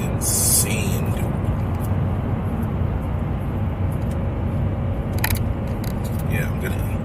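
A supercharged BMW E92 M3 with an ESS G1 supercharger, 94mm pulley and methanol injection roars loudly and steadily up close, a dense, continuous engine drone filling the whole stretch without letting up.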